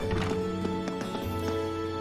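A horse in Trails of Cold Steel, hooves clip-clopping in an uneven rhythm over a steady tonal background music bed, moderately close and with no voices.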